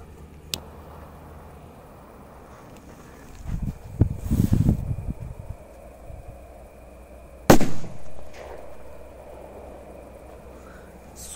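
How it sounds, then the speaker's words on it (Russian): Small crackling 'beetle' firecrackers burst outdoors at night: a dense, rattling volley of pops lasting over a second, then a single sharp, loud bang that trails off, with a few quieter cracks around them. "жуки взрываются хорошо"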